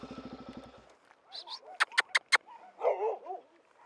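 A dog gives a quick run of sharp, loud barks up close, alongside whimpers and yips, with a voice briefly heard at the start and faint chatter toward the end.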